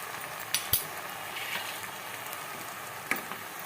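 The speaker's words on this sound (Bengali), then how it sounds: "নুন দিয়ে এবার ভালো করে নাড়িয়ে নিচ্ছি।" Kolmi shak (water spinach) frying in a pan with salt and turmeric, a soft, steady sizzle with a few sharp clinks of a utensil against the pan while being stirred, fairly quiet and without voices.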